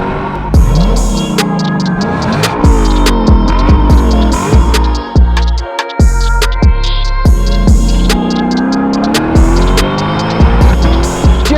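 A 2022 Lexus LC500 Convertible's engine roars loud and close while driving, rising and falling through repeated gear changes with sharp shift cuts, one brief silent gap, and tire noise.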